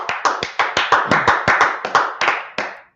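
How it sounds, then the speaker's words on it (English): A few people clap together in a quick, steady rhythm of about fifteen sharp claps, close and clear with no talking. "All right, clap it up."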